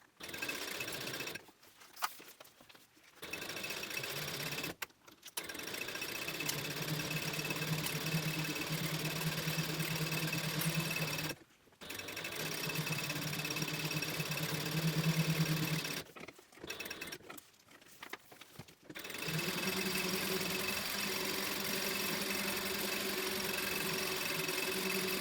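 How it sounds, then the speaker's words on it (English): Sewing machine running close up along the long edges of a fabric book bag at a narrow seam, several sustained bursts of steady stitching separated by short silent pauses. "I'm going to sew down the long edges at 1/8 inch seam allowance"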